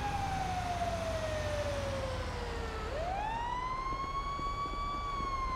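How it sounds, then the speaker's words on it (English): A police siren in the video game Grand Theft Auto V wails steadily, its pitch sliding down and then sweeping back up, loud and continuous throughout. "I hear sirens."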